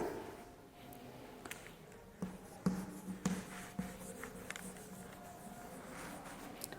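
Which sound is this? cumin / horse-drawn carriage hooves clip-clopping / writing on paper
writing on paper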